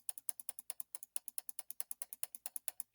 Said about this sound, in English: So I have to keep clicking.